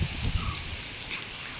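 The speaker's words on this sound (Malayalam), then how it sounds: "നല്ല കാറ്റുണ്ട് കേട്ടോ." Wind blowing across an open paddy field and rustling nearby leaves, heard as a brief, steady airy rush with soft crackling, fairly close and with no voices.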